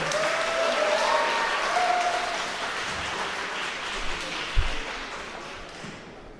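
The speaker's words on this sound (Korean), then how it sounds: "큰 박수 부탁드립니다" Steady applause from guests at a wedding ceremony in a wedding hall in Seosan, a dense wash of clapping that holds evenly throughout and tapers slightly toward the end, with a few louder thumps.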